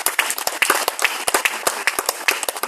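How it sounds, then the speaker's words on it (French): A church congregation at an Advent recollection applauding loudly, dense close hand clapping in a quick steady rhythm throughout, with no talk. "nous allons acclamer très fort"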